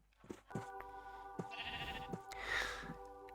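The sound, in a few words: sheep bleating in Minecraft video game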